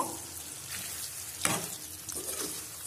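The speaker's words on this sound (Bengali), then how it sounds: "ভালো করে মিশিয়ে নিচ্ছি" Tomatoes are stirred into a frying eggplant and potato curry under a constant soft sizzle, with a spoon scraping through the mixture in a couple of louder swishes, no talk.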